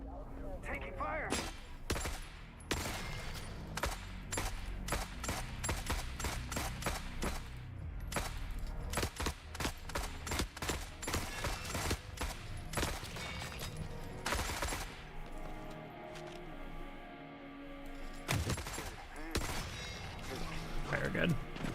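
Gunfire in the video game Forever Winter: loud, sharp shots in rapid volleys and scattered bursts that keep cracking throughout, with voices at times.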